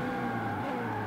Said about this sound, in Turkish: Drift'e mükemmel lan bu araba.